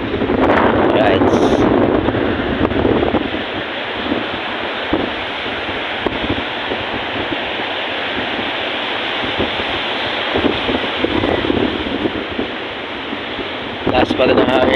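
Strong typhoon wind roars steadily and loudly into the microphone, buffeting in gusts throughout, with people talking over it at times.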